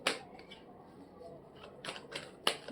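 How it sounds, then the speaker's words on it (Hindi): Playing cards being drawn and shuffled from a deck during a tarot-style reading, giving a few soft papery flicks and snaps, the sharpest near the end, over a quiet room. "मैं कार्ड्स निकाल लूँ।"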